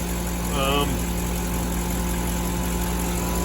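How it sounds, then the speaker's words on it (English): A van's motor idles steadily with a low, constant hum and a slight vibrating shake, running alone at close range with a brief faint squeak near the start. "The motor does have some shakeage to it"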